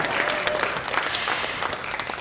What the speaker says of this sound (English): Please applaud for those who admit their fear.